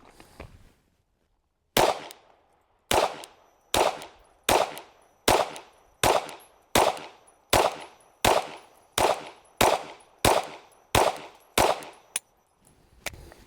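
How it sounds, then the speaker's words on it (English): A PSA Micro Dagger pistol fires a string of about a dozen sharp, loud shots at a steady pace, each ringing out briefly, after a short pause at the start. "we're going to shoot, reload a few times to see whether or not the magazine works"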